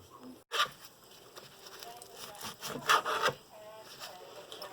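A knife cutting chicken slices into squares on a board: quiet, irregular scraping and chopping strokes with one sharper cut near the start and a small flurry of cuts in the middle.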